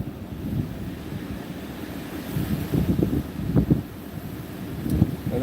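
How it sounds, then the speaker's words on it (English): Wind gusts across a snowy open spot near North Bend, Washington, rising as a rough, swelling rush with wind buffeting the microphone. No one speaks. "Another good gust there."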